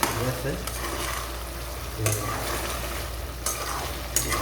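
Spices fry and sizzle in a pan while being stirred, a steady close hiss with a few sharper scraping strokes of the spoon; a brief spoken remark passes over it.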